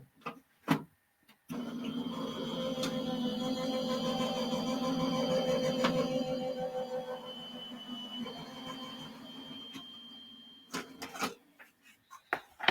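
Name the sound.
electronic cutting machine die-cutting a card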